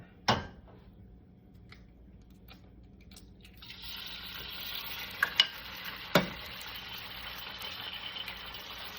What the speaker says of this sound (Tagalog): So, magluto taog over easy egg.